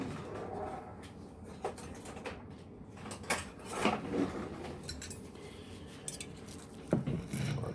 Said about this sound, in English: Let's get a spoon,